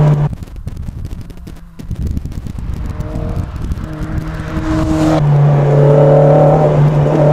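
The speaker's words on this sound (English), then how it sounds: "So we accelerate up through, tarmac gets smoother now." A Lotus Elise Sport 160 accelerates on a test drive, its engine note climbing through the gears with rising tones, then settling into a loud, steady drone over road and wind noise from inside the cabin.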